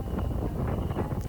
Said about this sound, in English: Windy, more windy